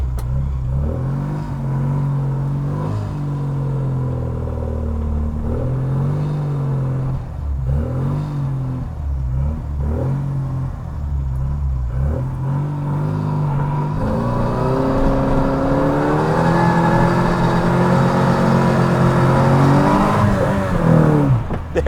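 A 1968 Morris Mini Cooper S MKII accelerating up a street, its engine note rising and dropping through gear changes before a long, loud climbing rev toward the end.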